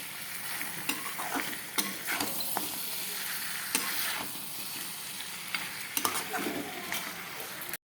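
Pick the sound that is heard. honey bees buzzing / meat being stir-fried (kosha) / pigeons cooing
meat being stir-fried (kosha)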